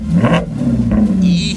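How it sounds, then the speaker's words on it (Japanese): A classic Japanese car engine, an RX-7 or Hakosuka Skyline, gives two short light revs rising over a loud idling rumble, close by and with no talk. "軽く吹かし"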